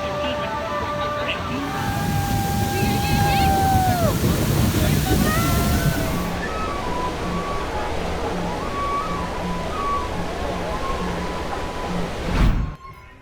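Water splashes and sloshes in a steady rushing wash on a Disney World water ride, swelling and then settling into a softer flowing hiss, with faint voices and a brief clatter near the end.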